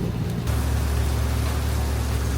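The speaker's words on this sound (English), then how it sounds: "so I don't want to get them rained on again. Ooh, it's coming down." Rain comes down steadily outdoors during bodywork on a Mazda RX-7, a dense, even hiss of drops that swells after a brief quieter start and holds with no voices.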